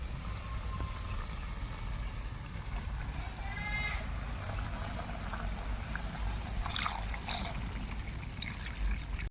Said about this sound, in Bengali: এবার আমি কিছুটা পরিমাণে জল দিয়ে দেবো